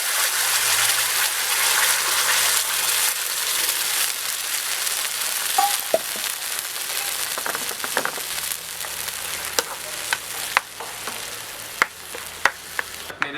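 Water poured into a hot tempering pan for chutney sizzles loudly and steadily, with clinks of a spoon stirring near the end.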